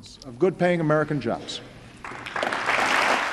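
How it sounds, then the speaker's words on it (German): A large chamber audience bursts into applause after a president's State of the Union address, a broad roar of many hands swelling behind a voice that speaks first. "Große Worte, großer Applaus"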